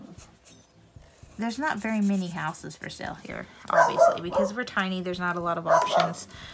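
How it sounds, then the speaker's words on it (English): A dog barks and yips in short bursts partly under someone talking nearby, the barks mixed in with her continuous speech. "I'm sorry for the barking."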